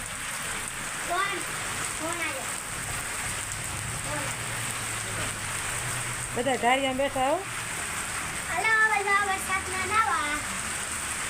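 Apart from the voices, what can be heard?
heavy rain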